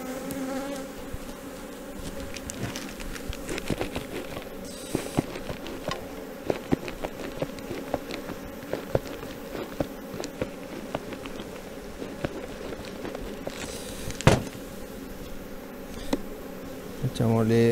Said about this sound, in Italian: prendiamo il nostro telaino, scogliamo bene le api